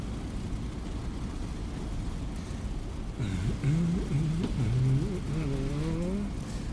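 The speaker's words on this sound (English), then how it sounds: "it's a air-cooled radial engine." A WWII aircraft's air-cooled radial engine warms up in the DCS flight simulator, a steady low drone that rises in pitch and loudness partway through, with wavering harmonic tones.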